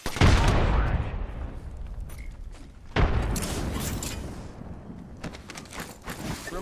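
A frag grenade explodes in Apex Legends: two loud, close booming blasts, each decaying into a rumbling tail, followed by scattered fainter impacts and debris.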